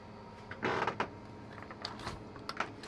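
A storage drawer aboard a 52-foot yacht slides open with a short creaking scrape, then a few faint knocks and rattles, quiet and close.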